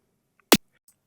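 A single sharp snare drum hit struck on the clean edge of the head, short and bright with a quick decay, alone in a quiet room with faint small ticks around it.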